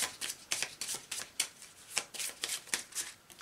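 Tarot-style oracle cards being shuffled by hand, a quick run of soft papery riffles and flicks repeating steadily at close range, with no voices.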